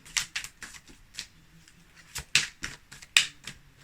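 Playing cards being shuffled in a tarot reading, giving a run of quick, crisp riffling bursts and snaps at close range with short pauses between, no talking.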